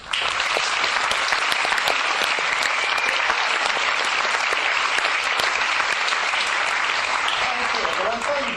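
A theatre audience gives sustained, dense applause as director Simon Phillips comes on stage, loud and unbroken, with some voices mixed in.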